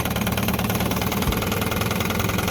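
A 1960 Evinrude Fisherman 5.5 hp outboard motor idles steadily on a cold day, a continuous close, even engine drone with a faint rhythmic knock and no voices.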